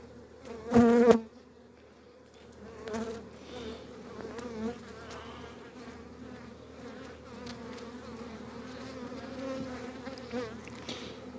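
Honeybees, a Kılıç bee colony in an eight-frame package hive, hum steadily and softly at the hive, with one brief louder knock or handling noise near the start.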